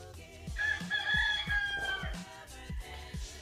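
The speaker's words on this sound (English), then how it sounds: "Listen to those damn chickens." A rooster crows loudly nearby in one long call, over a steady rhythmic low thumping in the background, in Mexican jungle.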